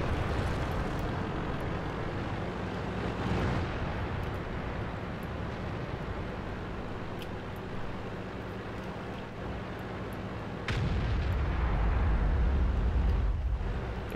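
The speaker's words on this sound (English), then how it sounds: "There's artillery." Artillery fire in World of Tanks: a steady low engine-like rumble runs under the scene, then a sudden heavy blast near the end jumps in loudness and lingers as a deep roar.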